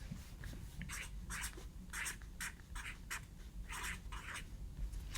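Pen writing on paper in a run of short, quick scratchy strokes, each a brief rasp, with a low steady background hum and no voices.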